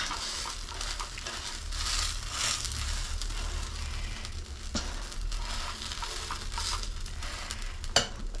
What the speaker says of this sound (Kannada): ನಾವೇನು ದೋಸೆ ಹಿಟ್ಟಿನ ಮೇಲೆ ಈರುಳ್ಳಿಯನ್ನು ಹಾಕಿರ್ತೀವಿ ಕ್ಲೀನಾಗಿ ಫ್ರೈ ಆಗುತ್ತೆ ಬೇಯುತ್ತೆ